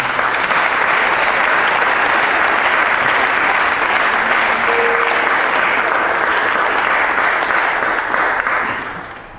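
A church congregation gives sustained, loud applause in acclamation to the Lord, a dense, even roar of many hands clapping that fades slightly in the last second.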